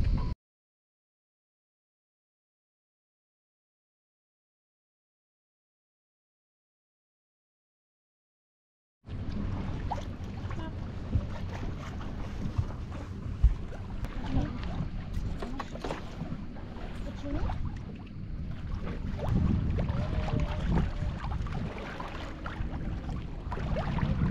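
Sailboat under way at sea off Porquerolles in light wind, the hull rushing through water under steady wind noise, starting after a long silence.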